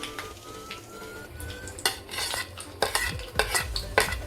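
Semolina (rava) roasting in ghee is stirred briskly in a pan. A metal spoon scrapes and clatters repeatedly against the pan over a soft sizzle, growing busier and louder in the second half, with no talking.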